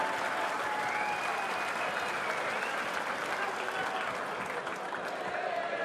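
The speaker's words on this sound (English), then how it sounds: "just a little bit of noise from the crowd" Crowd at a professional darts championship applauding and cheering, a broad sustained roar of clapping and voices heard at a distance, steady throughout with a commentator talking faintly over it.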